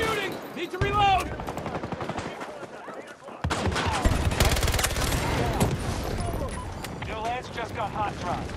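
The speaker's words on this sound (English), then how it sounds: "They're shooting!" Rapid bursts of automatic gunfire ring out in Battlefield 2042, Leviathan Rising mode, loud and close in sustained volleys, with shouting in-game voices heard over the start.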